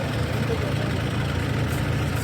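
Tractor engines idle at a farmers' tractor march protesting farm laws, a steady low diesel rumble throughout, with voices of people talking over it.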